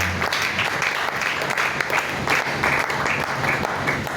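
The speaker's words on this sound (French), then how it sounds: "Est-ce que nous pouvons acclamer pour cette parole?" A church congregation applauds during a worship service, a steady, dense wash of clapping from many hands that fills the room for several seconds without pause.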